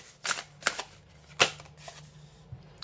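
Thick, cardboard-like tarot cards shuffled close by: three or four crisp, papery snaps and slaps spaced across a few seconds, with quieter rustling between them.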